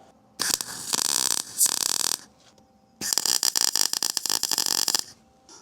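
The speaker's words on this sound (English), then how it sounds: "haven't used the welder in a while, so these are just tacks" A welder lays tacks on a custom metal vent in two loud bursts of harsh crackling buzz, the second one sputtering and pulsing, separated by a short quiet gap.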